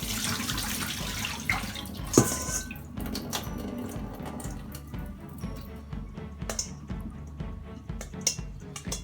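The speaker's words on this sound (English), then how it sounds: "let me wash the bitter leaf." Bitter leaf being washed by hand in water for egusi soup: continuous splashing, sloshing and dripping, with squishy handling of wet leaves and occasional clinks in a bowl, close and fairly loud with no talking.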